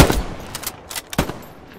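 Gunfire in the World War II shooter Hell Let Loose: a few sharp shots crack in quick succession over about two seconds, punchy and fairly close, with no voices over them.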